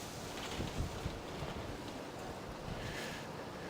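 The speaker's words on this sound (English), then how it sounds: "It's become very windy." Wind buffets the microphone in a continuous low roar with gusty surges, loud and close, no voices, outdoors in Fukuoka, Japan.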